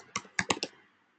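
Several quick keystrokes on a computer keyboard come close and crisp, about four or five clicks in a short burst that fades out within a second.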